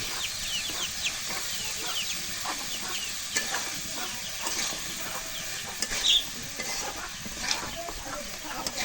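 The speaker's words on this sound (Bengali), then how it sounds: "আরে হ্যাঁ মুরগিগুলো কি লাগাইছে রে" Chickens cluck faintly and intermittently in the background while masoor dal sizzles and is stirred in a pan nearby in a home kitchen.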